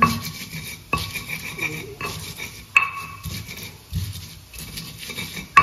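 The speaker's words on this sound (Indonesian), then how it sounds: "Diulek sampai halus." Spices ground by hand with a mortar and pestle while cooking fried potato sambal, giving close, repeated rasping and scraping strokes in an uneven rhythm, with occasional sharper knocks and no talking.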